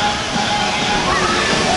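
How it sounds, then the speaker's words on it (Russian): Large tipping bucket at a resort hotel water park in Kemer, Turkey, pouring and sloshing water, a steady rushing gush heard at moderate distance. "Смотрите, такая бочка наливается, а потом переворачивается"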